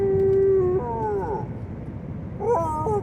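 A young child imitates a dog, giving a drawn-out howling woof followed by a second, shorter bark-like call, close and clear with no other voices.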